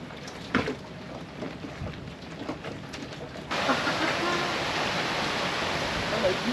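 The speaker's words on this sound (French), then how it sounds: "Il continue à pleuvoir, hein, mais il a plu toute la nuit." Heavy tropical rain pours down while awaiting a cyclone, a broad steady roar of water that thickens and grows louder halfway through, with a few scattered drips and knocks early on.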